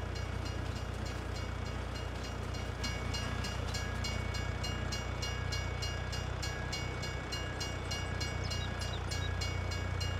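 Train cars roll past at a fairground on a Farming Simulator 22 map, making a steady, loud rumble of rail noise with rhythmic clickety-clack from the wheels, continuous for the whole stretch, with no voices.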